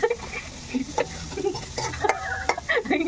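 Onions sauté in a hot pan, a soft crackling sizzle broken by repeated scrapes and clinks of a spatula stirring against the metal, fairly close and moderately quiet throughout.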